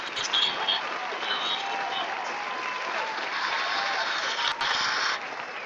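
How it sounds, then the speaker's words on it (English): A crowd gives a round of applause, dense steady clapping lasting several seconds before cutting off. "Give me a round of applause."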